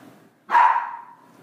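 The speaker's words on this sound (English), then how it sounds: "What are you barking about?" A single sharp dog bark rings out nearby, standing alone against near silence.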